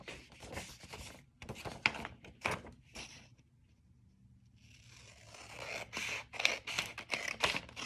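Scissors snip through folded paper while making a square for a paper snowflake, a run of crisp close cuts and rustles, a quiet pause, then another burst of rapid snipping.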